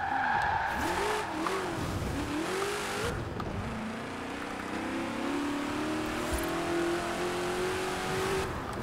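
A Hot Wheels car driving in Forza Horizon, its engine revving and shifting through rising and falling pitch, with tires squealing at the start, steady and close throughout.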